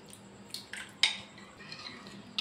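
A spoon stirs a thickening coconut milk halwa mixture with rice flour in a pot, making a few sharp metallic clinks and scrapes against the vessel, close and fairly quiet between the taps.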